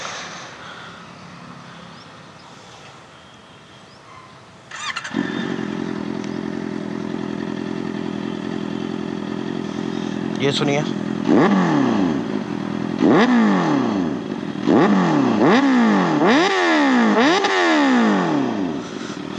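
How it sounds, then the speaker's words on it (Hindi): Loud 649cc inline-four motorcycle fitted with an SC Project exhaust, idling steadily and then revved hard in a series of sharp, rising-and-falling blips, close up and alone. "आपको एक बार एग्जॉस्ट की साउंड सुना देता हूँ बिफोर द राइड।"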